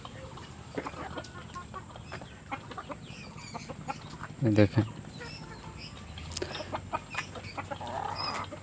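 Desi chickens clucking as they eat a mash of rice bran and leftover rice mixed with water, soft clucks and insect-like chirps around a steady hiss, with a short nearby call and a brief spoken word.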